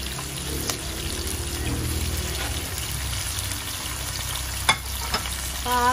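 Fish frying for sinigang gives a steady sizzle in hot oil, with occasional clinks and stirring knocks near the end.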